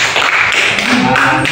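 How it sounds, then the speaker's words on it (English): A classroom group gives a brief round of applause for a student's correct answer in a linear algebra lesson, short and close, a quick burst of claps over room noise. "Let's give him a round of applause."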